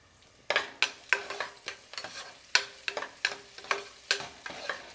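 Green chillies and curry leaves fry in a pan with onions for kanavai kulambu, soft sizzling broken by a series of sharp, rhythmic scrapes and taps of a spoon stirring against the pan, close and fairly quiet.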